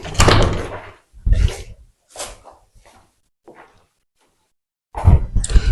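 An HDF wooden door with keys and handles is opened in a few separate bursts, with clunks and rattles spread across several seconds and quiet pauses between them.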